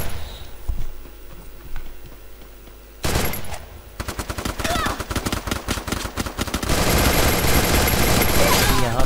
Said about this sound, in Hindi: मेरे पास पीछे से भी बुलेट फायर हो रही है